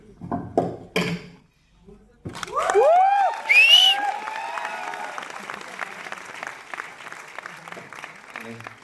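An audience clapping during a talk, a full burst of applause with whoops and cheers after brief speech, settling into steady clapping that gradually fades.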